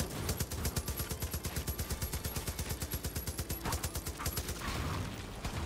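LMG machine gun firing in the video game Far Cry 5, a fast steady stream of evenly spaced rounds at moderate loudness, stopping briefly near the end.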